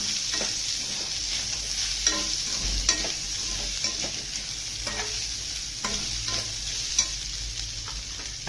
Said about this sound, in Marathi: परतवला कांदा.